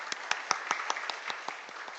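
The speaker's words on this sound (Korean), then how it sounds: "우리 박수 한번 치겠습니다." Church congregation applauding, a brief burst of scattered hand claps with distinct individual slaps in an irregular rhythm, fairly close and fading after about two seconds.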